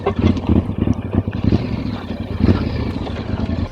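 Yamaha Ténéré 700 motorcycle engine running close by at a steady, smooth idle, with a low throbbing pulse and no voices.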